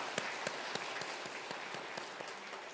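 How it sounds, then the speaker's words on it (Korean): A church congregation at Sunday worship applauds to welcome newcomers, the claps soft and distant yet evenly rhythmic, a steady patter of hands filling the room. "예, 박수로 환영하겠습니다"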